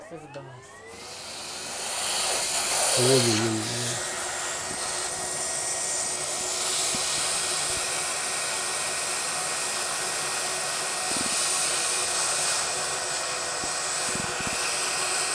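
A vacuum cleaner drones steadily and loudly as it cleans out a DeLonghi La Specialista coffee machine that had stopped working, its broadband whine holding for the whole stretch, with a brief exclamation from a person near the start.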